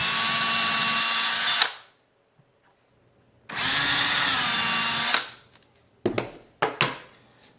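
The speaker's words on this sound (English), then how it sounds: "now I'm going to go through those same holes and drill a little bit" Power drill boring through a wooden board during a soap mold build, two long loud whining runs separated by a pause, followed by a few short bursts and clatters.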